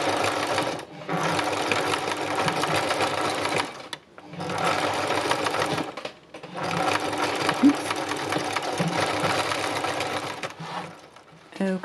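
A sewing machine stitches fabric into a textured picture in three long, steady runs of close, even whirring, separated by brief pauses.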